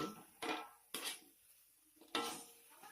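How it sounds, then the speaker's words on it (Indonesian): Anchovies and tofu being stirred in a pan over a small flame, with three sharp scraping clatters of a utensil against the pan separated by quieter stretches of soft stirring. "diaduk sampai merata begini. Kira-kira 3 menit ya, diaduk-aduk begini."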